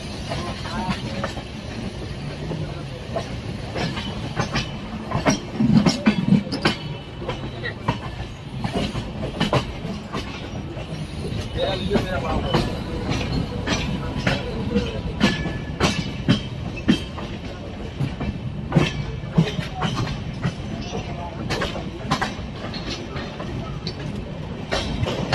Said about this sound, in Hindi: अम्रपाली एक्सप्रेस पहुंचने वाली है गोंडा जंक्शन रेलवे स्टेशन पर